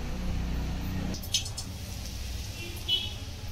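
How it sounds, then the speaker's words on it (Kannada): Rice flour, salt and dry chili powder being mixed by hand into batter for mirchi bajji, soft wet squishing close by under a low rumbling background, with a couple of brief clicks. "ಚೆನ್ನಾಗಿ ಮಿಕ್ಸ್ ಮಾಡ್ಕೊಳ್ಳೋಣ."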